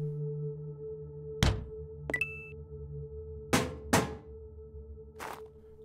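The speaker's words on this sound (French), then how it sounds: "à distance, mettre fin à cette alarme de mort" Death alarm in a video game: a series of sharp, isolated electronic pings and thuds spaced a second or so apart over a steady low hum, fairly quiet with no talk.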